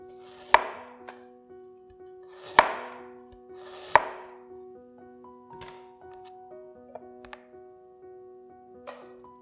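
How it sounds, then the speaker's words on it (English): A knife chops chilli into smaller pieces on a board, with three sharp, distinct strikes early on followed by a few softer taps, close and alone against a faint steady background hum. "chop up the chilli into smaller pieces to help the blending process along"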